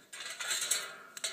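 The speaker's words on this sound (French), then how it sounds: "Vous coupez à peu près au milieu de la canette." Scissors cut through an empty aluminium Coca-Cola Zero can, giving a run of thin, close metallic crunching and scraping strokes, with a couple of sharper snips near the end.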